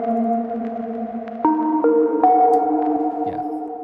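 A synth pluck patch for a pop ballad pre-chorus plays alone, a steady run of bright, pitched chords that shift upward a few times, with a big reverb tail and no other instruments.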